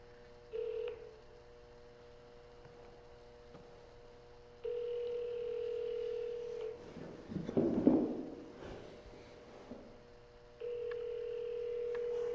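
Telephone tones ring out during a cold call, with several long steady dial or ringback tones separated by pauses and a short burst of keypad beeps in the middle, clear and close with no talking.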